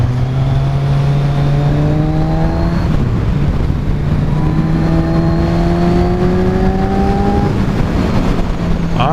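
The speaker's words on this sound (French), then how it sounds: "Le bruit du Z, c'est une férocité, le truc. Une espèce de bruit un peu caverneux, le Z1000, un peu rock." A Kawasaki Z1000 motorcycle engine accelerates through the gears, its rising drone climbing in pitch, dropping at each shift, then climbing again, loud and close with wind noise throughout.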